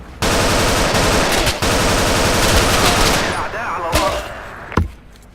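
Automatic gunfire in the Battlefield Iraq video game, with sustained rapid bursts that break off briefly, resume, then thin out into a few scattered, loud single shots near the end.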